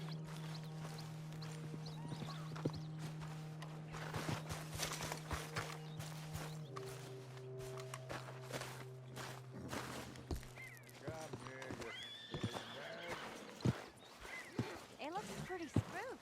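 Horse hooves clip-clop in Red Dead Redemption 2 gameplay, steady footfalls under a constant low hum and game ambience, with a brief whinny-like flourish late on; people talk over the sounds.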